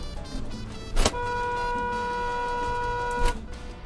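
An oncoming car passes close on a narrow Baja Peninsula road with inches to the guardrail, heard as a steady drone with two sharp whooshing bursts as vehicles go by.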